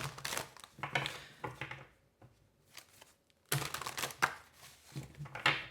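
Tarot cards being shuffled by hand, soft papery riffles and crinkly flutters in several bursts with brief pauses between, close and fairly quiet with no talking.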